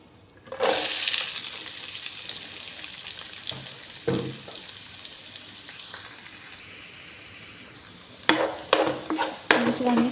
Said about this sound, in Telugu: కట్ చేసుకున్న ఉల్లిగడ్డలు కూడా వేసేసుకోవాలి.